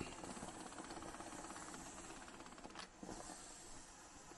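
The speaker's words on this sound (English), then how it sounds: "I can see steaming up" A Multi Steam Pro garment steamer hisses and sputters steadily, a broad continuous rush of steam with a brief dip near the end before resuming, nearby and alone without talk.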